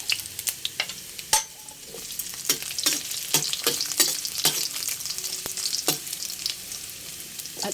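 Garlic and ginger sauté in a pan for burong isda with rice. A steady frying hiss runs under repeated sharp scrapes and clinks of stirring. No voices are heard.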